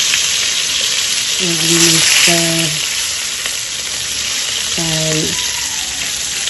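Fish sizzles steadily in a frying pan with a constant loud hiss while someone talks briefly over the crackle.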